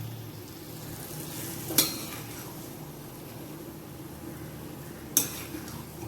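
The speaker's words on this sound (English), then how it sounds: "See how I am stirring it." Tomato bath being stirred in a pan, with a quiet steady bubbling sizzle and two sharp spoon knocks against the metal, close up and without talk.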